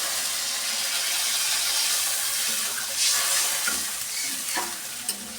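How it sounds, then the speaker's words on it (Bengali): Water is poured into a fish curry over cooked-down spice masala, producing a continuous close hiss and bubbling sizzle that swells briefly midway. "এখন আমি ঝোলের জন্য জল দিয়ে দিব পরিমাণ মতো"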